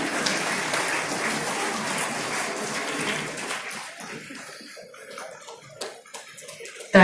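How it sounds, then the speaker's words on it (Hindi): Audience applause at a Jharkhand government anniversary ceremony as a memento is presented to a minister on stage: dense, steady clapping for about four seconds that then thins and fades, with a brief louder burst at the very end. "तालियां भी आपकी ओर से हों।"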